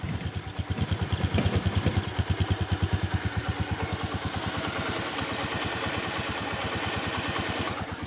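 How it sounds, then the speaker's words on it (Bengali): A Bajaj Platina 100cc motorcycle idles close by, its single-cylinder engine thumping in a fast, even pulse that holds steady for several seconds with no talk. "গাড়ির ইঞ্জিনের সাউন্ড আপনাদেরকে একটু শোনানোর চেষ্টা করি"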